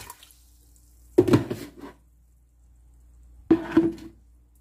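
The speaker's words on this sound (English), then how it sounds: "And I'm going to add some water." Water poured into a pressure cooker holding green mung beans, two short splashy pours with a quiet pause between them, close and clear, with no talk.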